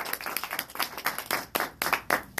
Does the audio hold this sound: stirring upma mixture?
no